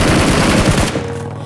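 Rapid automatic gunfire in the mobile battle royale game BGMI rattles loudly for almost a second, then cuts off abruptly into near quiet.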